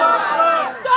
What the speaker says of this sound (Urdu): نعرے کا جواب ذرا دور سے دیں گے